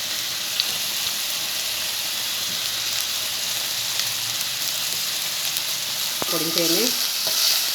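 Masala with curry leaves and ginger frying in a pan for fish masala, a steady loud sizzle of hot oil close by, with a brief spoken word near the end.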